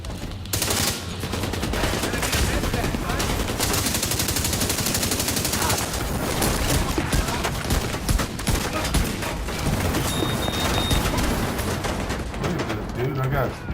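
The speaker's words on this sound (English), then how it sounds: "Dude, I got people shooting me in the back" Continuous video-game gunfire from enemies shooting, rapid automatic bursts packed densely and loud throughout, layered with other battle effects and no pauses.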